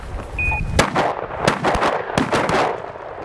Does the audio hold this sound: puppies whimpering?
no